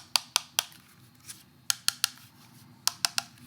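The polycarbonate body of a Nitecore BB21 electronic blower is handled, giving a series of sharp plastic clicks in quick pairs and triplets, close and crisp against quiet.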